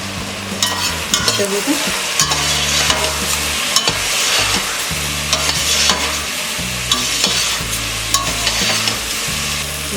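Coriander powder and garam masala fry in a pan of potato pulao, a steady sizzle punctuated by frequent spoon scrapes and clinks, with background music throughout and a brief spoken phrase.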